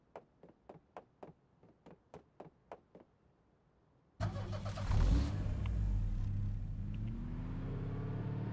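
In the game Knives Out (荒野行動), a battered car gives about ten quiet evenly spaced taps, then its engine roars to life with a loud rev that settles into a sustained, rising engine drone.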